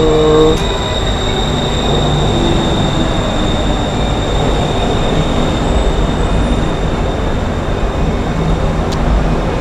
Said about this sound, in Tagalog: So, the train from Phia Thai to Thonglo Station is 47 baht.